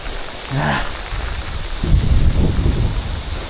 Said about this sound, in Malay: Hujan lebat geng, Kita orang terpaksa berteduh dulu.